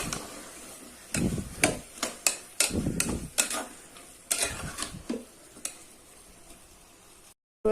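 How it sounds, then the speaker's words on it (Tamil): Potato, with a few beans, being sautéed in a pan for vegetable rice: a soft fry hiss broken by repeated loud spatula knocks and scrapes against the pan, irregular and close, ending in a brief silence. "ஒரு உருளைக்கிழங்கு இப்போ இது நல்லா கொஞ்சம் வதக்கி விட்டுடலாம்"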